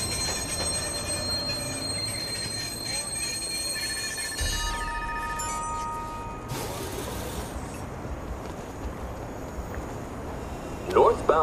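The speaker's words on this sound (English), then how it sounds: "Southbound train, arriving shortly." Train pulling into a station in the video game Watch Dogs, with steady rumbling rail noise, metallic tones and squealing wheels building, then a louder brake hiss near the end; an announcement voice speaks over it.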